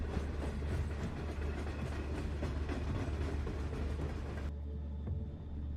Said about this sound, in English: And that was a train I heard.